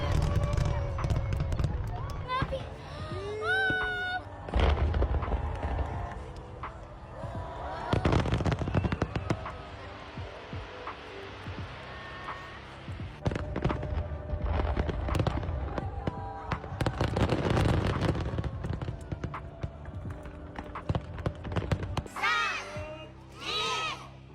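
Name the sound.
fireworks exploding at a Japanese summer festival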